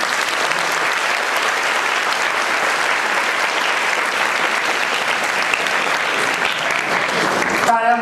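Sustained audience applause at a coaching class prize distribution ceremony, a dense, even roar of many hands clapping that carries on for several seconds before cutting off.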